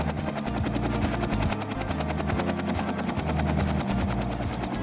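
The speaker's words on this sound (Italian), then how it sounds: "Un elicottero! Che emozione! Amo pilotare gli elicotteri!" A cartoon helicopter flies in a steady, loud, close whirring drone with fast rhythmic rotor chop running throughout.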